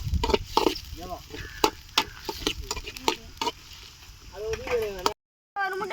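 Green chilies get stirred into frying chicken leg piece gravy: sizzling with repeated scraping, knocking spoon strokes close by, under people talking, followed by a brief silent gap.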